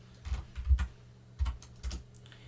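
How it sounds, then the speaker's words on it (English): Typing on a computer keyboard, a short run of separate key presses with small pauses between them, close and fairly quiet, with no voices. "let me just type,"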